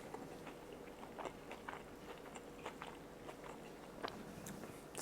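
Soft bites and chewing of a homemade egg roll served with avocado ranch, faint crunches and mouth sounds over a steady background hiss, with no talking.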